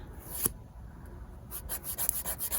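A nail file rubs against fingernails in quick, faint strokes close to the microphone, with a brief scrape near the start and a rapid series of short rasping passes in the second half.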